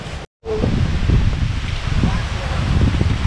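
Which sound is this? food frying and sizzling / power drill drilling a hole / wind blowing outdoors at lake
wind blowing outdoors at lake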